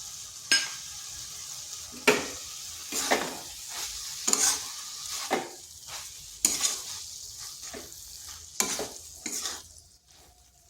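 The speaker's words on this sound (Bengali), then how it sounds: "ভালোভাবে এইভাবে এক থেকে দেড় মিনিট একটু নেড়ে নিচ্ছি" Chopped cabbage with coriander leaves and mustard oil stirred in a hot pan, about nine scraping strokes at roughly one-second intervals over a soft sizzle, close by with no voices.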